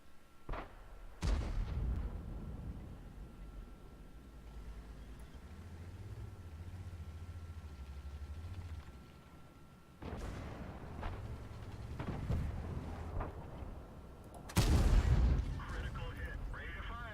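Tank cannons fire in the World of Tanks video game, with three heavy booming shots spread across the clip over a low, droning engine rumble.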